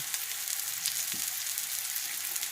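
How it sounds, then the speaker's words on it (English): Grits cooking in a small pan, stirred nonstop as they swell, give a steady faint sizzle with soft scraping, a quiet continuous bubbling texture and no voices. "And you notice that I don't really stop stirring."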